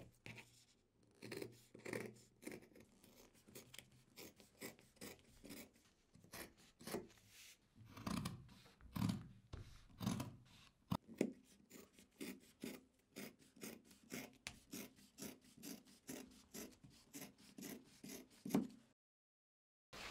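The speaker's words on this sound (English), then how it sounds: "So I'll be cutting the second and third piece here." Scissors cut through two layers of denim fabric, giving a long run of rapid, rhythmic rasping snips and crunches that stay close and clear with no talk, then stop abruptly near the end.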